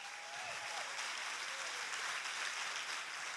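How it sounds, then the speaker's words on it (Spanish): Sustained applause from a church congregation at a Sunday sermon, a steady dense wash of clapping with no pauses, heard at a distance across the room. "Aplauda si va a aplaudir bien."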